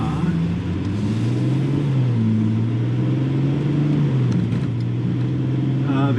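A BMW 3 Series coupe, 335i or M3 of the E92 generation, pulls away on the road with a steady mid-pitched engine drone that rises as it accelerates, heard from inside the cabin with continuous road rumble.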